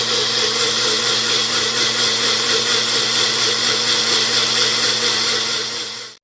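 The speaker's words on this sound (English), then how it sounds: "and blender to blend it up." A blender whirs steadily and loudly, blending key lime chia pudding made with coconut milk, maple syrup, chia seeds, lime juice and avocado, a continuous motor drone that cuts off abruptly at the end.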